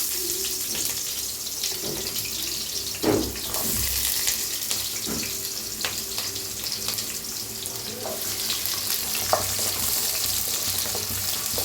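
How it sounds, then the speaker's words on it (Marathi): Onions frying in oil in a kadhai, a steady close sizzle and crackle with occasional stirring scrapes and clinks throughout. "आता कांदा भाजून घ्यायचा आहे"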